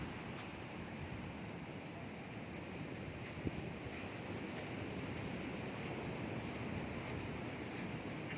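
Ocean surf crashes and rolls continuously with wind gusting across the microphone, a dense steady wash of water noise.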